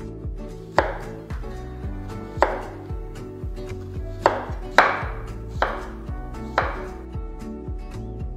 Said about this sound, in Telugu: ఆ తర్వాత ఇలా స్లైసెస్ గా కట్ చేయాలి.